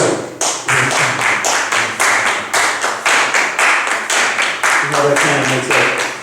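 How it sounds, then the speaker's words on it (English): A group claps a steady, even beat together for body percussion practice, each loud, close clap landing in a regular pulse of roughly three per second, with a faint voice under the rhythm. "You're going to start by clapping a steady beat"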